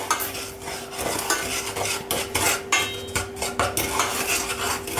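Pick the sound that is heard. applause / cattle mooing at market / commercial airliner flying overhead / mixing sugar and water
mixing sugar and water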